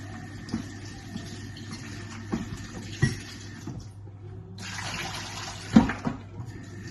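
Water runs steadily from a tap while something is washed beneath it, a continuous splashing wash with a few louder splashes and knocks, close and fairly quiet, with no talking.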